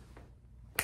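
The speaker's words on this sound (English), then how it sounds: "we're gonna snap our fingers" A single sharp finger snap lands near the end, close and crisp after a faint earlier tap in a quiet storage unit being set up as a podcast space.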